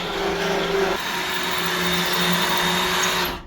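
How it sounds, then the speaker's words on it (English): A power drill steadily whines as it bores out spot welds on a car quarter panel, a continuous loud buzz with a slight pitch change near the one-second mark, cutting off abruptly at the end. "We're gonna drill the holes out of all that, the spot welds,"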